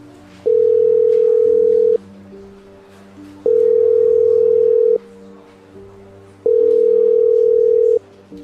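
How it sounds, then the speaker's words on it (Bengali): Three long, steady ringback tones sound through a phone line, each lasting about a second and a half with even pauses between, clear and alone. "ওপাশে রিং হচ্ছে"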